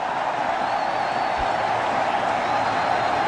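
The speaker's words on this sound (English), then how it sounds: "Crowd are going berserk. They're loving this." A cricket crowd at Bangladesh vs New Zealand roars and applauds a boundary hit by Mohammad Ashraful, a dense, steady wall of cheering that holds at a constant loud level throughout.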